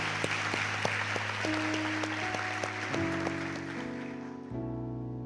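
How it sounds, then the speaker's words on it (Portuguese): A church congregation claps along during a sermon, steady applause under sustained organ or keyboard chords that shift pitch, fading toward the end. "Aplauda Ele em nome de Jesus"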